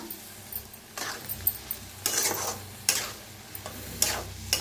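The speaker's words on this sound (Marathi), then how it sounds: "आता ह्याच्यात टाकूया चवीप्रमाणे मीठ. मिक्स करूया भाजीला" Spoon stirring a radish pod vegetable dish with salt in a pan, several scraping, clinking strokes against the cookware spaced about a second apart over a gentle sizzle, close by.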